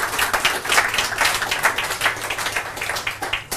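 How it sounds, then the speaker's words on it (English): Audience at a panel discussion gives the participants a steady round of applause, close and fairly loud with many overlapping hand claps and no talking. "we give a big applause to the participants"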